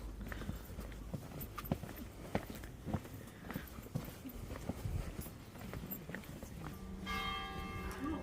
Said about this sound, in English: I hope you can hear the church bells ringing.